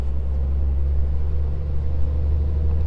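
Steady low engine and road rumble inside a car overtaking a truck on a Polish highway, a constant droning hum with no distinct passing whoosh.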